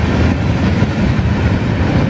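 A long freight train rumbles past close by, its tail end going by in a steady, dense low roar with faint clatter from the cars and no one speaking.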